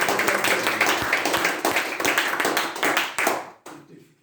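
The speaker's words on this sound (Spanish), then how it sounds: "Yo quería que le des un aplauso al Señor" Church congregation at a men's convention claps in praise, dense rapid handclaps filling the space at steady loudness before cutting off near the end, with a brief trailing clatter.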